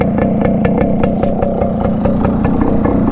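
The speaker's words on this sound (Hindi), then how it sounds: "दोनों बाइक स्टार्ट खड़ी हैं। इसका साउंड सुनो" Yamaha RX135 two-stroke motorcycle engine runs steadily at close range, loud and continuous with a rapid pulsing exhaust beat and slight revving swells.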